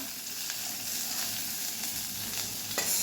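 Okra sizzles and fries steadily in a hot pan, a continuous hiss with faint stirring scrapes and no voices.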